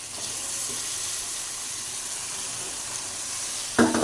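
Chicken pieces drop into hot mustard oil with spices and fry, giving a steady close sizzle and hiss throughout, with a louder splash of crackling near the end.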